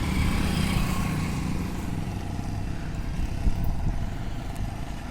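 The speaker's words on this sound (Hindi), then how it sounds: "आप देख सकते हैं कितने बाइकर्स जा रहे हैं, चाहे वो बुलेट पर हों, चाहे वो 100 सीसी की बाइक पर हों।" Motorcycles, including a Royal Enfield Bullet and 100cc bikes, pass along a road with riders not wearing helmets, making a continuous, fairly loud engine drone with rattling and a slight swell partway through.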